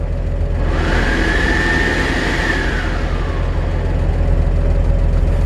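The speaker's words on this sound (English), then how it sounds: "you can hear the heater" The cab heater of a 1947 Chevrolet 3100 pickup runs with the truck switched on, giving a loud, steady fan whoosh over a low engine hum. Near and constant throughout, with no talking.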